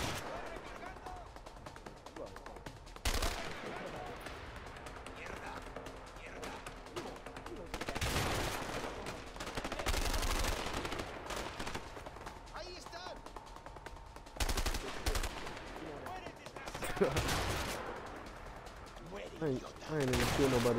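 Gunfire from the video game A Way Out in a shootout, with bursts of shots coming in clusters over game noise and music while someone talks over much of it.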